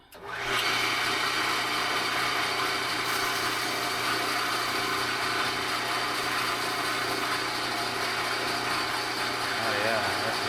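An electric sharpening machine starts up and settles into a steady, loud whirring hum that runs unbroken for several seconds at close range.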